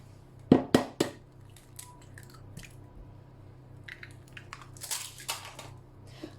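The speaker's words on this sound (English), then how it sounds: "into this we are going to crack 3 eggs" Three eggs are cracked into a jug for a courgette and hazelnut chocolate cake: a quick cluster of sharp, close shell cracks, then softer crunching and drips as the contents fall in.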